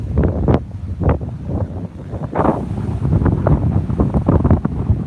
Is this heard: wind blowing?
yes